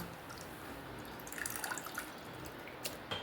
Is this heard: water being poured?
yes